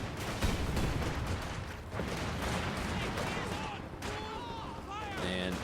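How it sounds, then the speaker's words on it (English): Gunfire crackles steadily through a wartime strategy game battle as an incendiary grenade lands on a building, with dense rattling shots and dull booms under continuous commentary, and tonal whistling effects near the end. "here goes an incendiary grenade on that building"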